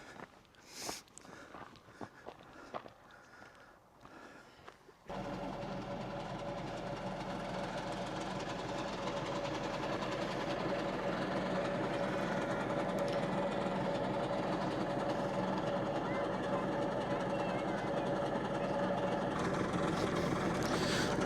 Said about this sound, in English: Trains are still running.